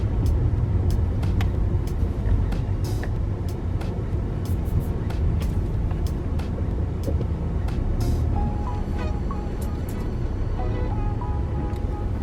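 A car drives on a road, its engine and tyre noise forming a steady, fairly loud rumble throughout with occasional brief clicks and knocks from inside the cabin, and no one speaking.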